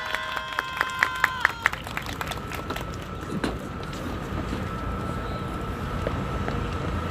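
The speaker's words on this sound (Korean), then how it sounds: "큰 박수로 맞이해 주시기 바랍니다" An audience of teachers at a history education forum claps to welcome two speakers, starting with a few distinct sharp claps, then a steady, moderate patter of many hands continuing under a faint tone.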